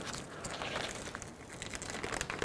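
Crinkly plastic rustling and crackling up close as a packet is torn open, brief irregular crunches with no voices.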